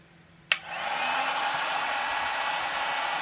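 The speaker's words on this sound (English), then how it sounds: "What I'm going to do is use my heat gun." A heat gun clicks on and blows hot air onto the back of a mould, a sudden start followed by a steady, close whooshing hum with a faint whine.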